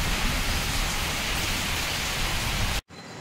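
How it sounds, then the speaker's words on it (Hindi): Light rain falls in Hyderabad during bad weather, a steady, even hiss of drops that runs without a break and then cuts off abruptly near the end, with no voices. "बारिश गिर रही है अभी भी धीरे धीरे"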